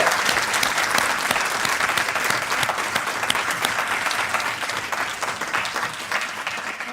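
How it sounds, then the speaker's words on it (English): Sustained applause from an audience at a professorial inauguration ceremony in a university humanities faculty, steady dense clapping filling the room for several seconds with no talk over it. "Can we give Professor Pragna another round of applause?"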